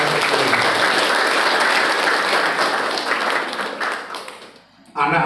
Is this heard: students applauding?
yes